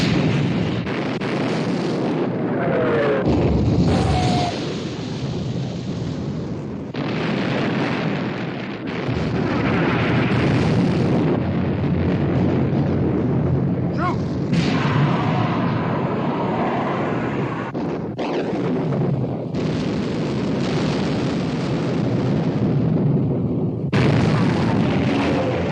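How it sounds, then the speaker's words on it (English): Heavy naval gunfire from the battleships Bismarck and Prince of Wales trading salvos in a WW2 Royal Navy battle, loud booming blasts and rumbling explosions recurring through the stretch amid dense battle noise, with voices calling out now and then. "Prince of Wales and Bismarck exchanging fire."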